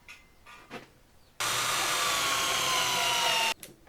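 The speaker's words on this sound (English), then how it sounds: "So I look from all directions to make sure that I can drill straight down." A power drill bores straight down into wood for about two seconds while building a serving tray, a loud, steady whine that starts abruptly and stops just as suddenly, with faint clicks before and after.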